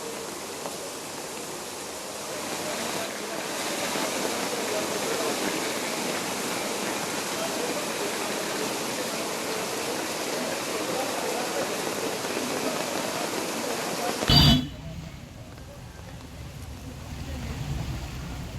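Floodwater from the overflowing Indrani Tirtha in Udupi rushes in a steady, broad roar during heavy rain, with a brief bump near the end before the noise drops lower.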